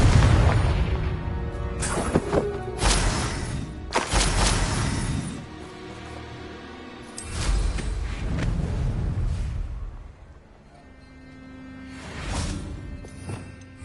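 Confringo blasting spell explosions in Hogwarts Legacy combat: several loud booms and whooshing bursts in quick succession, then quieter rumbling swells with further blasts spaced out later.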